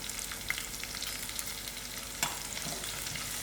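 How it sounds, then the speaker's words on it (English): Sour herbs and dhal sizzle in a pot while being stirred, a continuous hiss of frying close up with a sharp scrape or clink near the middle and no talking. "Just stir."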